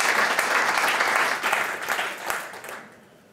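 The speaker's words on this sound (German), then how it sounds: "Ein Applaus natürlich für Martin Essel und stellvertretend für das gesamte Team" Warm audience applause at a corporate dialogue event, a full burst of many hands clapping that swells, then fades out over a few seconds.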